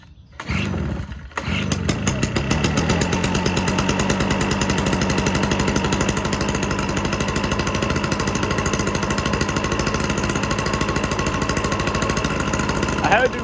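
Stihl BR420 backpack blower and HS45 hedge trimmer two-stroke engines crank, catch and then run at a steady, loud, buzzing idle close by for several seconds, with brief talk near the start.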